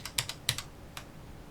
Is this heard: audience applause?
no